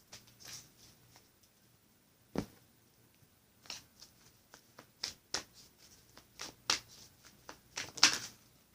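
Tarot cards being shuffled by hand in a quiet room, a run of soft, irregular riffling taps and slaps with a few sharper card snaps near the end, close and fairly faint, no talking.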